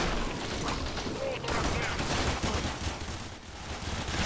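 Rapid gunfire from the Keplar weapon in the video game Warframe, a dense, sustained volley of shots close and loud throughout, with game combat noise layered underneath.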